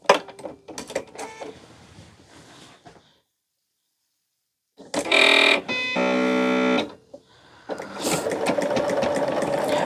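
A sewing machine stitches a scrap quilt in loud mechanical bursts: a rattling run, a pause of near silence, then a strong steady whir with a clear motor hum, followed by more loud continuous stitching.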